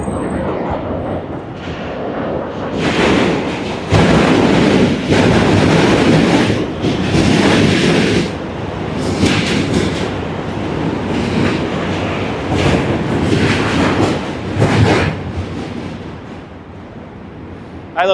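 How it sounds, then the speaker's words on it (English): Trains pass over a bridge in Brooklyn, a loud, sustained rumble with rhythmic clickety-clack and surging waves of metallic roar, heard close by without talk. "I love the train. I love that sound of the trains too."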